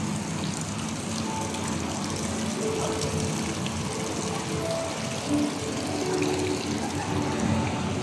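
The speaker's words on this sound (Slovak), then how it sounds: "Tu je vstup do hotela. Tu máme také menšie jazierko." Steady trickling and splashing of water from a small fish pond at a hotel entrance in Kuala Lumpur, a continuous close gush with no talk.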